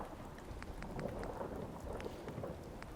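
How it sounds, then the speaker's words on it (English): Rain falling steadily on surfaces during a thunderstorm in Fallout 4, with a dense continuous patter and low thunder rumble, soft and enveloping with no voices. "With the thunder going on outside. I think the sound of rain is just so cozy."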